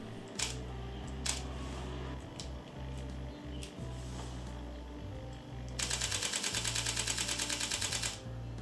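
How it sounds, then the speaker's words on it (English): Soft mechanical shutter clicks from a Panasonic Lumix S1R mirrorless camera sound a few times singly, then a rapid burst of many quick shutter clicks in a steady rhythm, close and quiet. "Mechanical shutter is not very loud, as you can hear."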